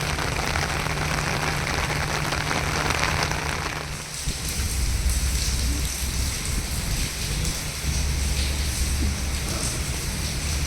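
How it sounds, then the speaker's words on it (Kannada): Heavy rain pours outdoors at the Aga Khan Palace in Pune, a dense, loud, steady hiss and patter of drops hitting surfaces that lasts the whole time with no voices. "ಸಿಕ್ಕಾಪಟ್ಟೆ ಮಳೆ ಬರ್ತಾ ಇದೆ."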